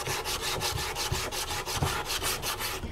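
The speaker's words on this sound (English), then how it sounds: "When we scrape this thin oxide layer" Metal surface being scraped to remove a thin dull oxide layer, a steady rhythmic rasping of repeated strokes, close and fairly loud, with no talking.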